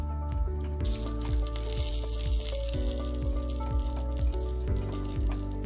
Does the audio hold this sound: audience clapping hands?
no